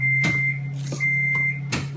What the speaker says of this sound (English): if you hear that, that's my microwave